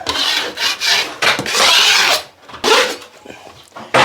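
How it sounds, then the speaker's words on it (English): Drywall knife blade scraping over a patched wall, rough raspy strokes in several close, loud passes separated by brief pauses. "Then run your blade over everything."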